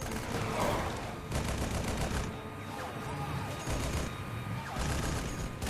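Gunfire in the Halo Wars video game: dense, continuous bursts of automatic weapons fire with crashing impacts, steady and loud across the whole stretch, with shouted voices mixed in.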